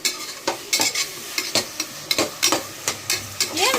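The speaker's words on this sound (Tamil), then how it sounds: "அது சிக்கனோடையே சேர்த்து வதங்கணும்" Onions sautéing together with chicken in a pan for a Pallipalayam dish, steady sizzling broken by repeated stirring scrapes of a spoon against the pan, close and fairly loud, with no voices.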